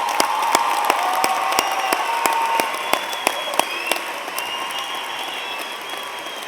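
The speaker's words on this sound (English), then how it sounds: "Please join me in another round of applause for our great students" Applause for graduates at a 2023 Texas A&M University at Qatar commencement, a broad crowd clapping in a large hall with a few sharp louder claps standing out, gradually fading toward the close.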